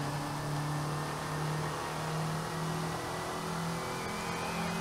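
Race car engine in Forza Horizon on the Cathedral Circuit, a steady sustained drone held at high revs with the throttle kept open, loud and continuous with no talk over it.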